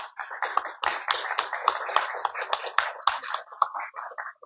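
Dense, steady applause from an audience at a book presentation in Peru, many hands clapping at moderate volume for about four seconds with no talk over it.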